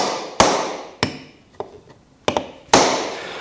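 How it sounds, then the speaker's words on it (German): A hammer drives a screw thread into wood with a driver, five sharp separate blows at uneven intervals, each a loud close crack followed by a short ringing decay. "dann treiben wir einfach den Gewindegang der Schraube rein ins Holz"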